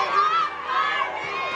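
A crowd of fans shouts and cheers together in a sustained, loud, high-pitched roar with many overlapping voices, continuous throughout.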